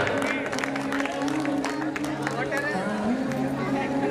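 Loud, steady applause from a crowd at a Ramlila Ram Rajtilak and awards ceremony in Azadpur, with clapping sustained across the clip under a musical drone and crowd noise.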